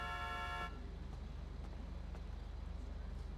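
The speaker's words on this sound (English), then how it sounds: "They're like sitting here honking and they run me over." A car horn honks in GTA V traffic, one sustained toot lasting well under a second, then cut off, leaving a low rhythmic idle rumble beneath faint background noise.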